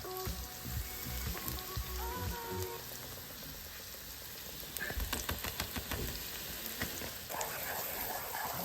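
Curry shrimp with coconut milk cooks in a pot, giving a continuous soft sizzling and bubbling hiss, with faint voices briefly heard early on.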